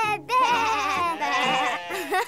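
A cartoon sheep on a farm gives a wavering, high-pitched bleat that is drawn out and close, repeated in a couple of bursts with no other sound.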